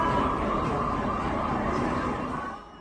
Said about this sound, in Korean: 사이렌 소리와 함께 대로변에 소방차가 줄줄이 서 있습니다.